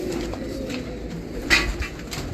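Pigeons kept for pigeon flying coo softly and low, a gentle murmuring call at close range against a quiet background.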